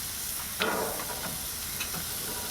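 Thin meat fillets for steak sandwiches hit a hot grill, giving a close, steady sizzle and hiss with a couple of sharper crackles as pieces are laid down.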